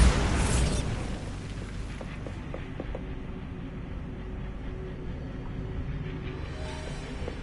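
A Bombarda spell blasts in the Hogwarts Legacy video game, opening with a loud close burst that decays over about a second into a lingering rumble and faint debris clicks.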